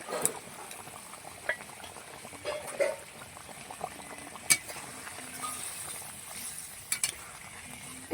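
Hilsa fish curry in coconut milk simmers in a pan, a quiet bubbling boil close by with scattered soft pops, a few clinks of a utensil and faint stirring.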